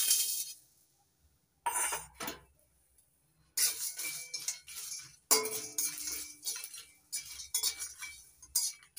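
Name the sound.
dry roasting cloves, cardamom, cinnamon and dried chillies in a pan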